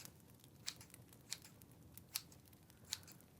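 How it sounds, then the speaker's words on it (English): Scissors snip through hair in a straight-across cut, four crisp, quiet snips spaced roughly every half second to second, close and isolated against a soft background hiss. "you will cut the hair straight across like this"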